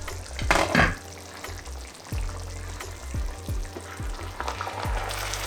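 A spoon stirs jollof rice in a cooking pot over a soft sizzle, the scraping strokes coming in irregular bursts, close by and with no speech.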